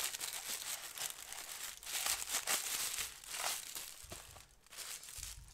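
Paper wrapping crumples and crinkles as a Guerlain beauty product is unboxed, close, continuous rustling with bursts of crackle and no talk.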